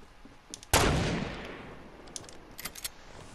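A single loud, close gunshot in Fortnite with a long decaying echo, followed by a few faint clicks and small distant reports.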